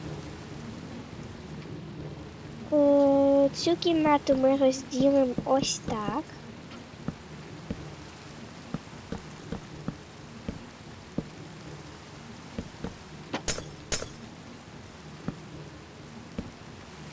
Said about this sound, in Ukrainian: Ой, дощ почався.